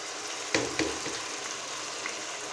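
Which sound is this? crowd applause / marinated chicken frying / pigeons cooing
marinated chicken frying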